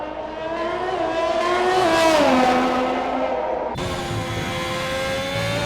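Race car on a sim racing lap of the Mexican Grand Prix circuit, engine screaming up through the revs with a whining harmonic pitch, then dropping sharply on a gear change and pulling on steadily, close and loud with no talk.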